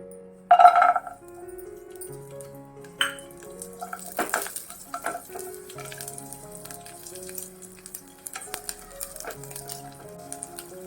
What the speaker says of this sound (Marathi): आता पुन्हा तेलावरती मी थोडं भाजणार आहेत भाजलेलेच दाणे